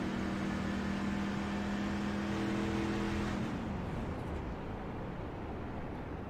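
Onboard engine of a racing truck in a PC truck series video game, held at a steady high drone with a sustained tonal whine that fades out partway through, leaving a broad rumble.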